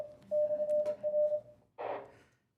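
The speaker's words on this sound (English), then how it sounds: "That's our repeater IDing, legally IDing." Amateur radio repeater sending its identification in Morse code, a clear single-pitch tone keyed in short and long beeps, followed by a burst of radio static or squelch noise at a public event.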